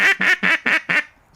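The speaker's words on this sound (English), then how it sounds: "it's a classic set of old wooden duck calls" An old wooden duck call is blown in five quick, evenly spaced nasal quacks, close and clear, tapering off into quiet at the end.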